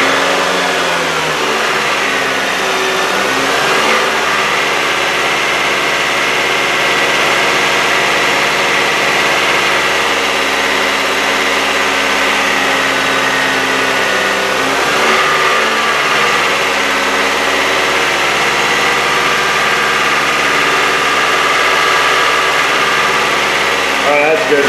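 A Jeep Patriot with a crank sensor fault has its engine held at raised revs around 2,000 RPM, a steady, loud, continuous hum and drone close by that barely changes over its length.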